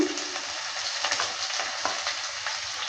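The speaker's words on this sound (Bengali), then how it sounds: "এবার দিয়ে দিচ্ছি পেঁয়াজ কুচি" Chopped onion sizzles in hot oil in a pan while being stirred, a steady close crackle broken by scraping strokes of a spoon.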